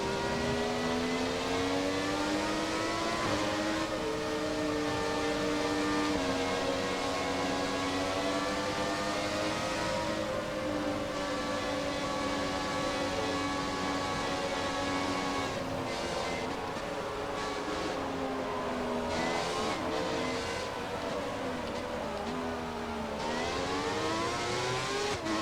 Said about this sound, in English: you did a good job with the sounds of this car, the 412 T2. The last V12 Formula 1 car